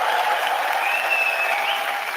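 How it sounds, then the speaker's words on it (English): A political rally crowd in Surrey, BC claps and cheers continuously, a dense, loud wash of applause with no clear break. "give him a round of applause"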